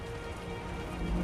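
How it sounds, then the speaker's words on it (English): Steady rain falling in a video game scene, a dense continuous patter with a low rumble underneath, moderately loud and unbroken throughout. "The rain's getting heavier."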